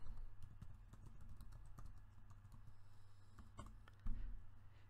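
Typing a web search on a computer keyboard, a quiet run of irregular key clicks over a low steady hum, with a slightly louder tap near the end.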